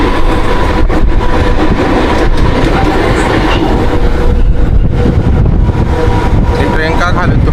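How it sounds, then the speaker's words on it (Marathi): A Mumbai city commuter train passes close by in the morning, its loud steady rumble and rattling wheels filling the whole stretch, with a faint voice under the din. "बघू शकता मित्रांनो अजून एक सिटी ट्रेन आली आहे"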